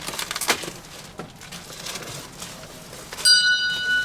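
A desk bell on a packing desk rings once near the end, a clear bright ding that rings on after some quieter knocking and handling sounds.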